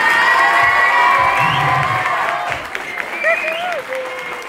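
Concert audience at a live show in Lodève cheering and applauding loudly, a dense wash of clapping with whoops and shouts that gradually thins out over a few seconds.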